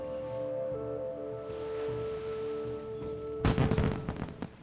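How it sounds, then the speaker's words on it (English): Fireworks in the video game World of Warcraft, heard over a steady droning tonal ambience: a sudden cluster of crackling bangs near the end that fades quickly. "Oh, bit of fireworks."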